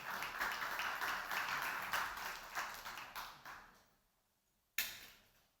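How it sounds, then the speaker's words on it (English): Audience applause for a conference speaker at a mobile gaming talk, a dense patter of clapping that fades out over several seconds, then one sharp clap or knock near the end. "give a big round of applause"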